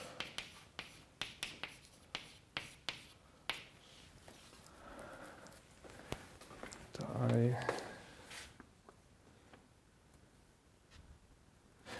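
Writing on a board during a physics lecture on gravitational waves: a rapid series of sharp, close taps and strokes at first, then softer scratching, with a lecturer speaking in between.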